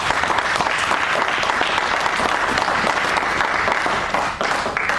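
A church congregation at a Sunday service applauds loudly and continuously, dense close clapping that fills the room and dips slightly at the end.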